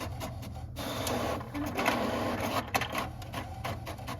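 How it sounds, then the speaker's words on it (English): An HP inkjet printer, out of ink, runs blank pages through with a steady mechanical whir and rhythmic carriage clicks, close and continuous with no voices. "An HP printer."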